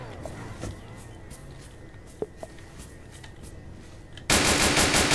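Faint background sounds, then a sudden loud burst of rapid gunfire near the end in the video game Emergency Hamburg, crackling and continuous.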